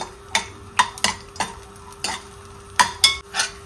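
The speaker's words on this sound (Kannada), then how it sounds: "ಇವಾಗ ಇದನ್ನು ಒಮ್ಮೆ ಫ್ರೈ ಮಾಡ್ಕೊಳ್ತೀನಿ" Ingredients for amla (Indian gooseberry) lehya fry in a pan as a spoon scrapes and stirs in a steady rhythm of about nine close, sharp strokes over a soft sizzle, with no talking.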